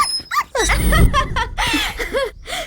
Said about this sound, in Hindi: कंचनमाला मतलब कुत्ते का बच्चा?